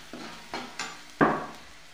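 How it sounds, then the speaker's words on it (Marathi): Spice masala fries in oil in a pan under a faint sizzle. A spoon stirs and scrapes it four times, each stroke short and close, and the last stroke is the loudest. "तर याला व्यवस्थित मिक्स करून घ्यायचं 2 मिनिटं। मस्त असं मसाल्याला तेल सुटू द्यायचं।"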